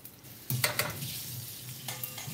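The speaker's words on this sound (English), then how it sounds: "as soon as you stop hearing the sizzle, like it's not spluttering anymore, that is ready" Orange peels fry in a hot pan, a soft continuous sizzle with a couple of sharp stirring scrapes and spatters near the start and end.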